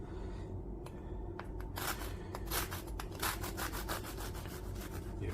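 A knife saws through a cooled loaf of homemade chestnut bread, giving steady close rubbing and scraping strokes with crisp crust crackles, repeated over several seconds without talk.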